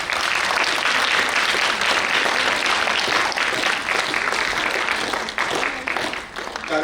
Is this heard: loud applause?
yes